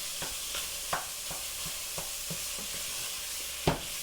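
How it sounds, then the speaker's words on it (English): Hamburger meat sizzles steadily in a pan for beef and bean chili while a utensil mashes and stirs it, giving soft scraping taps at an irregular pace over a constant frying hiss. "Now we're just going to mash this up. Make sure all the hamburger gets cooked and browned."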